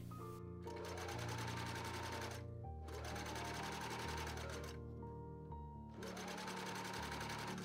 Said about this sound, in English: I stitched the back parts together using the same method as the front